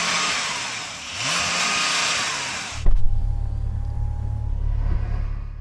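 A Porsche 911 engine roars loudly and steadily, then a deep low rumble cuts in partway through with a sharp jolt. After that the engine keeps growling at a high, even level.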